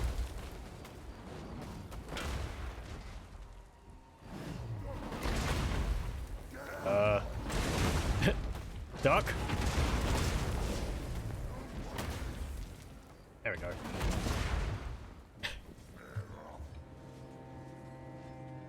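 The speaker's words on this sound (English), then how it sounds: "The sound of the dwarven artillery is scary on its own. Just a constant kaboom thud." Dwarven artillery in Warhammer 2: Total War booms in repeated heavy, thudding blasts, loud and close, with a person talking between and over the impacts.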